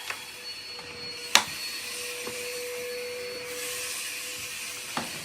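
A Hoover vacuum cleaner drones steadily up close, a constant whining motor tone with a few sharp clicks and knocks scattered through it.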